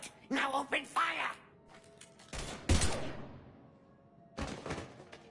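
Mass Effect 3 firefight gunfire, several sharp loud bursts of shots separated by quieter gaps, following a stretch where a voice speaks.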